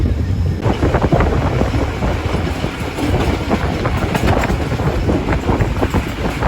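Ghouri Express passenger train rolling on the rails, a steady dense rumble with rhythmic clickety-clack and wind buffeting throughout, loud and close from inside the moving train.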